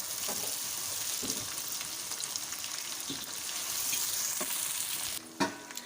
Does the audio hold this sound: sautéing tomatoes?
yes